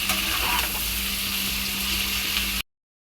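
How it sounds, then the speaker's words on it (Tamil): About 50 grams of cashew nuts frying in a pan for paneer butter masala, making a loud, dense sizzle with light stirring scrapes for around two and a half seconds before cutting off suddenly. "ஒரு 50 கிராம் முந்திரி இதில் போட்டுக்கணும். அதையும் வதக்கிக்கணும்."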